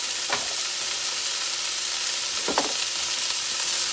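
Cabbage frying in a pan on a stovetop gives a steady broadband sizzle throughout, with two brief clinks or stirring scrapes near the start and just past the midpoint, and no talking.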